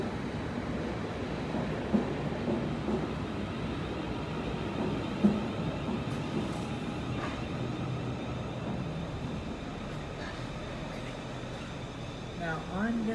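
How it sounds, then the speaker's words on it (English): A train in a video game rumbles steadily, with low rolling noise and occasional clanks throughout, and a voice is faintly present. "Ooh, I'm on top of a train."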